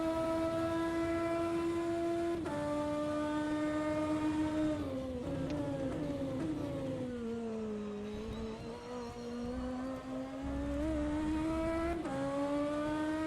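A BMW M4 DTM race car engine in rFactor 2 at Monza drones at high revs with strong harmonic whine, pitch dipping and climbing as gears shift, loud and continuous with no talk.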